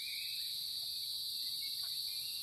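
Crickets and other insects chirp steadily on a dark evening outdoors, a dense, continuous high-pitched trill that fills the air at low volume with no break.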